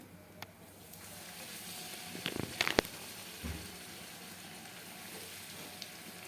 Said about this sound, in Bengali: এইভাবে উলট পালট করে আমি সবগুলো পুরি ভেজে নেব